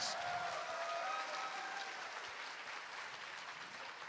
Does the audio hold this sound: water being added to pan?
no